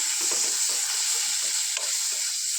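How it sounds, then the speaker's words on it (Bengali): Spice masala for chickpea bhuna sizzling in a pan, a constant bright frying hiss with soft scraping strokes of stirring at an uneven rhythm, close and clear, no voices. "মশলাটা কষিয়ে নেই"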